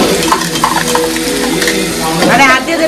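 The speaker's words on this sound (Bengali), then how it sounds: "এবার মশলাটাকে দিচ্ছি, মানে আদা রসুন বাটা দিলাম" Ginger garlic paste frying in a pan and being stirred, a loud continuous sizzle with scraping stir strokes, close and steady over a few seconds.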